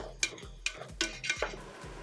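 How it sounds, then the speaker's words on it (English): A spatula scrapes and turns one-pot turkey penne in a pot, giving several soft, rhythmic scrapes and knocks against the pot, close and fairly quiet, with no talk. "we're just going to keep cutting this with our spatula, giving it a good turn"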